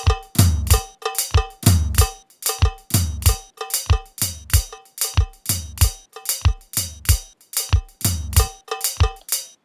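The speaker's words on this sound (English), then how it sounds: "it sounds like the cowbell is light, but the floor tom is heavy" Kompa drum beat sequenced in Logic Pro: a bright, light cowbell pattern with heavy floor tom hits, looping steadily and evenly in a driving syncopated groove, played alone without voices.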